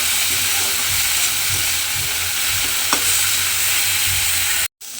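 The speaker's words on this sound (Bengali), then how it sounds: "ফুলটা কিন্তু তেলের মধ্যে দিয়ে খুব ভালোভাবে প্রথমে আমি একটু ভেজে নেব" Cauliflower florets frying in hot oil for a home-cooked rice accompaniment, a steady broadband sizzle held throughout at close range, with a faint clink near the middle and a brief dropout just before the end.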